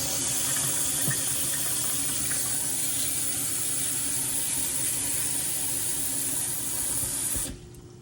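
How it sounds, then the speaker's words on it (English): Cold tap water runs steadily into a bowl of rice, a continuous splashing rush that stops abruptly near the end. "And then I'm going to add water to it."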